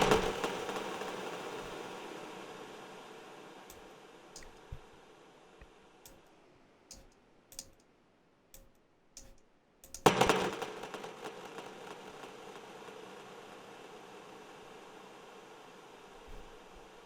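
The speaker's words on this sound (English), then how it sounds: "So you hear that like that reverb, that like noise, long noise, like long ocean of noise." A Valhalla Supermassive reverb plugin spreads into a long, noisy tail like an ocean of hiss. The faint, steady wash is dotted with sparse clicks, swells again near the middle, then slowly thins out.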